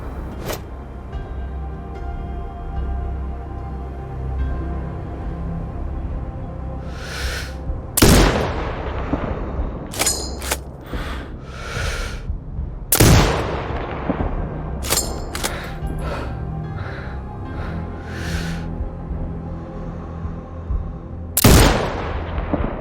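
Sniper rifle shots ring out during target training in Sniper Ghost Warrior Contracts 2, several loud sharp cracks spaced seconds apart with echoing tails over a steady low ambient hum.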